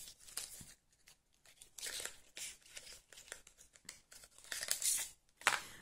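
Packaging of gel pens being torn open and handled, with repeated bursts of crinkling plastic and tearing in an irregular rhythm, close and fairly quiet, with no one talking.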